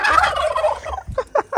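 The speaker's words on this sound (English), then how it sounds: "Hello, turkeys. Turkeys." Wild turkeys gobble outdoors in West Texas, a rapid rattling call that fills the first second, followed by a few shorter separate gobbling bursts nearby.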